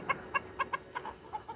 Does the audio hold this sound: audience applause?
no